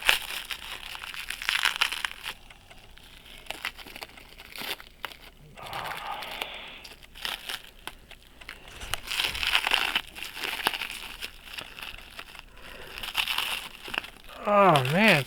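Sticky tape is peeled and crumpled off a 400-day clock, giving close, irregular crinkling and crackling bursts, with quieter stretches between them and a short squeak near the end.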